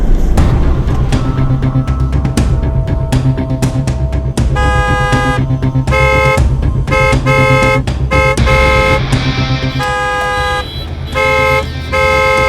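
Car horns honking repeatedly in traffic, loud and insistent, with overlapping toots and long blasts over engine noise.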